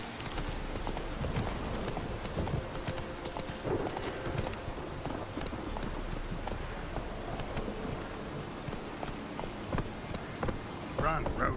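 Roach the horse galloping in The Witcher, rapid rhythmic hoofbeats running continuously at close range, with a brief whinny and a voice speaking over the pounding hooves.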